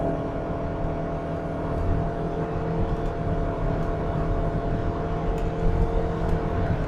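A 2015 Toyota Camry Hybrid's engine as it accelerates on a toll road, a steady loud in-cabin drone with road rumble and a rising hum, and no talk.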